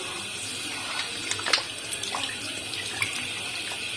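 Water pours steadily into a pot of rice for white matar pulao, four glasses' worth, a continuous close splashing stream with a few brief louder splashes partway through.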